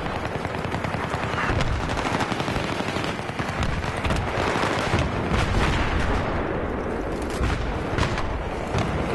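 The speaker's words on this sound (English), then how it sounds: "Mortars." Mortar fire in the Battlefield 3 video game forms a dense, continuous barrage of booms and rapid blasts, loud and close throughout, with no voices.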